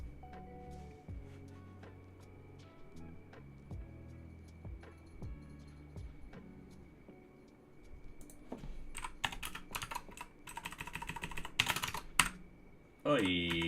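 Close typing on a computer keyboard, irregular clicks in bursts that grow faster and louder toward the end, with a steady faint hum beneath.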